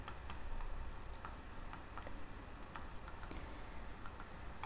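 Faint, quick clicks of typing on a computer keyboard, a short burst of light taps over low background hiss.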